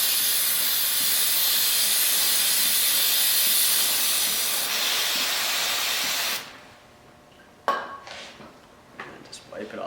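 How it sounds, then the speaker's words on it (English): Cleaner spraying in a steady hissing burst onto the chain of a Honda CBR 600 F2 motorcycle, held close and loud for about six seconds, then cut off, followed by a few light clanks and handling noises. "take your cleaner and give it a nice coating all the way around it"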